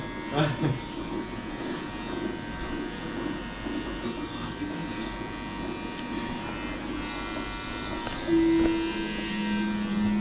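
Electric clippers shave the hair off a man's head, a steady close buzz running throughout with voices talking and laughing over it.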